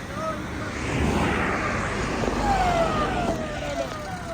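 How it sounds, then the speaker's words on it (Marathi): A police patrol car passes along a mountain ghat road at midnight, its engine swelling and a falling siren-like tone sliding down as it goes by, with road rumble and people speaking faintly nearby. "हे बघा ही पोलीस गाडी गेली"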